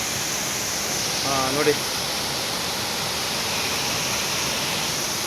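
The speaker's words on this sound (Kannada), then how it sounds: "ಈ ರೀತಿ ಹರಿದು ಬರ್ತಾ ಇದೆ ನೀರು ಸೊ ಇದನ್ನು ಜಲಪಾತ ಮಾಡ್ಕೊಂಡ್ಬಿಟ್ಟಿದ್ದಾರೆ" Water from a tank flows down the Honnamma Devi waterfall in Chikmagalur, rushing in a constant, even wash from start to finish, with a short spoken phrase briefly over it.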